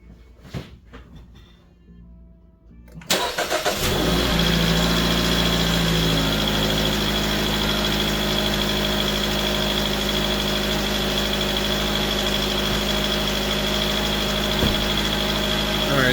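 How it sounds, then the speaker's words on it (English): A 2017 Jeep Renegade 2.4L engine cranks and starts after a quiet moment, then settles into a loud, steady idle close by. "let's start the vehicle"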